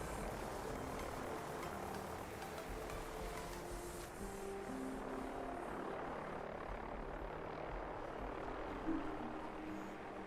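A steady, droning video game helicopter rotor hum fills the scene continuously, fairly distant and even, with no speech over it.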